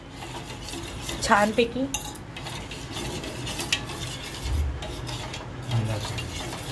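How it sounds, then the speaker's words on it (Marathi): A spoon stirs sweet potato kheer in a pan over a low gas flame, giving repeated close scraping and clinking strokes against the metal, with a brief spoken word partway through. "चमच्याने हलवत आहोत आपण"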